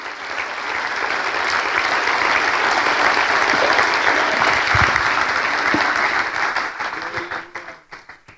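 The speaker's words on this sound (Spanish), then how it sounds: "De un aplauso al Señor." Church congregation breaking into dense, sustained applause that fills the room near and loud, then thins out and fades over the last second or so.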